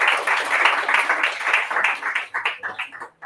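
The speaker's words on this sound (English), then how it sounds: "please welcome Julia with a big applause" An audience at a Pint of Science talk in Oslo gives steady, close applause that fades into a few scattered claps before stopping.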